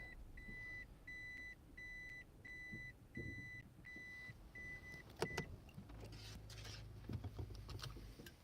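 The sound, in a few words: beeping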